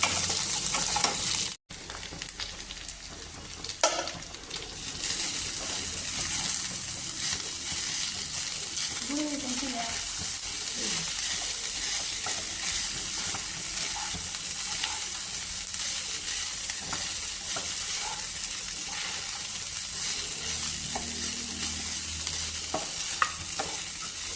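Poha (flattened rice) frying and being stirred in a pan, a steady close sizzle with occasional scraping and clinks running throughout, with faint background voices now and then.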